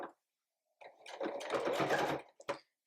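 A domestic sewing machine stitches seams on a fabric elephant soft toy, with a quick opening burst, then a steady whirring run of close, continuous stitching that ends in a short final spurt.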